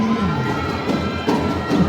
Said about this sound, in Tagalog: Sigawan na rin ang mga taga Zone 50.